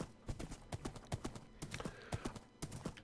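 Horse hooves clip-clop in the Minecraft video game as a steady, rhythmic run of light, fairly quiet clops, with no voices over them.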